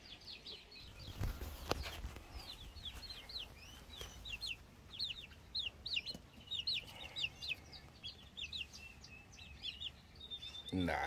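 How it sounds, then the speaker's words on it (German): Young Cochin chicks and adult Cochin hens and roosters in an aviary annex, with rapid high cheeping in clusters over soft clucks and low rumbling background noise, fairly faint. "7 Cochin-Hühner"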